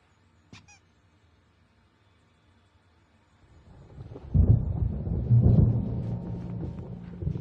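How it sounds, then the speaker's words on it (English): Thunder from a storm in Alan Wake Remastered rolls in low and rumbling after a short high tone, building into a loud, sustained growl that slowly fades. "There's a storm coming. Oh, what a storm."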